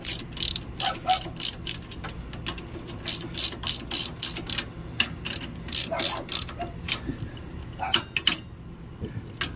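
A hand ratchet snugs down bolts on a MORryde X-brace, giving rapid runs of sharp, close clicks in repeated bursts with short pauses between strokes.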